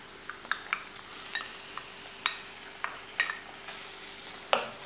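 Pieces of turkey and a garlic clove frying with onion in a pan, a soft sizzle broken by scattered sharp clicks and scrapes of stirring, close up with no talk.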